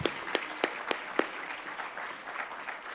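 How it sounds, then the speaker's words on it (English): Audience applause fills an awards ceremony hall, a steady wash of clapping with a few sharp, close hand claps standing out in the first second, continuing evenly without voices. "Clap it up for yourself."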